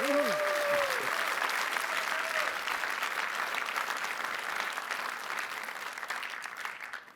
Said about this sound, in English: one round of more applause for Raviv and I